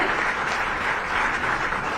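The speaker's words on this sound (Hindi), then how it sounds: "जोरदार तालियां होनी चाहिए।" Sustained applause from a crowd at a Jharkhand government appointment letter ceremony, steady and dense for the whole stretch with no pauses or talk.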